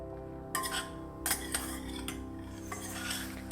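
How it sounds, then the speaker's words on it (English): Shiitake mushrooms stirred in a pan over medium heat, with a utensil scraping and clinking against the metal in several distinct strokes under a quiet, steady cooking hum, and no talking. "Stir the shiitake mushrooms"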